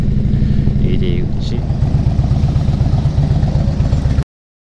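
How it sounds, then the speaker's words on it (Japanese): Loud motorcycle engines rumble and putter close by in a steady, throbbing drone, as several bikes crawl past in heavy motorcycle traffic on the Bandai-Azuma Skyline, before the sound cuts off abruptly. "いやもうバイクの渋滞がすごい"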